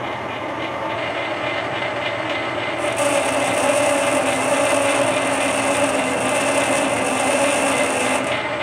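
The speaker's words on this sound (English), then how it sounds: "we'll put 5 thou cut on first, start the lathe up," A metal lathe cuts a thread with a steady, close mechanical whir and a rasping cutting noise. The sound brightens partway through as the cut engages and runs on continuously without pauses.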